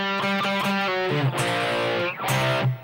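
Distorted electric guitar plays a song's riff, chugging short repeated notes that move into sustained, bending phrases, loud and clear with no talking.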